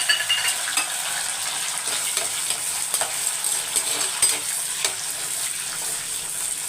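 Small shallots sauté in a pan for a kohlrabi sambar with a bright, steady sizzle, punctuated by the clicks and scrapes of a spatula stirring against the metal, close by and without speech.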